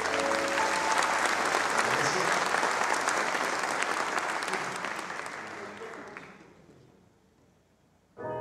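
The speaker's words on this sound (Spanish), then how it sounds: "Aplauso fuerte para él." Concert audience at a cultural center applauds a flute player joining the band, a dense, loud burst of clapping that gradually thins and fades to near silence, then music abruptly starts at the end.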